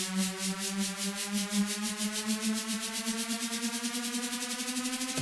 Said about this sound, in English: So firstly, we'll do chorus.